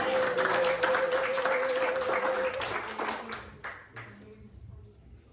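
A church congregation applauds in a dense, steady burst of clapping that thins and fades out over a few seconds, with a sustained vocal or musical tone and some speech underneath at the start.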